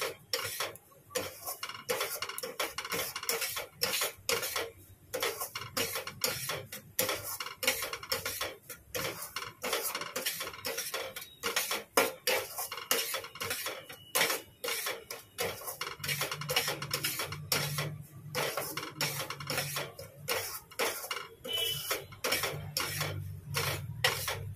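Semolina cooks in a pan on a home stove as a metal utensil clatters and scrapes repeatedly, a dense run of quick clicks and knocks with a faint sizzle underneath.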